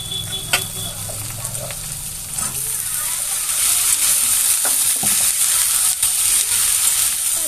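A curry of small fish (chochchori) fries in a wok, a loud continuous sizzle with occasional stirring clatter that grows a little stronger partway through; faint voices are heard early on.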